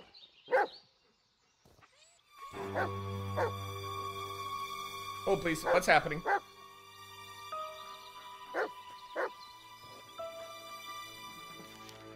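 A dog in the Blair Witch video game barks in short bursts and whimpers between them, close and clear, amid eerie game ambience while a player talks.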